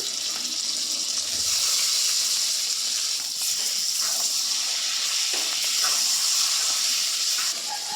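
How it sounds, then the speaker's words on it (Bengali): Small fish frying in a pan with garlic, chili and cumin, a loud, continuous hiss and crackle with faint scrapes of stirring throughout, no voices. "এই মাছগুলাকে একদম নাড়তে চাড়তে ভাজতে হবে"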